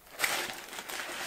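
Tissue paper wrapped around a limited-edition 2021 Chanel No 5 perfume crinkles softly up close as it is handled during unboxing, a brief steady rustle with no voices.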